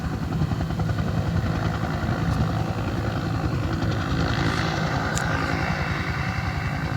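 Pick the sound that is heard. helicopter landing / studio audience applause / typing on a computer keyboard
helicopter landing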